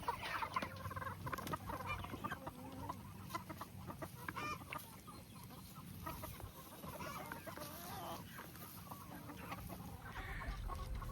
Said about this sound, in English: The chickens have been enjoying their dust bath.